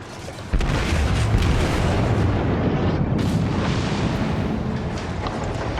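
Naval guns fire in World of Warships, one sudden loud boom followed by a sustained rumbling roar of battle noise that continues without letting up, no talking.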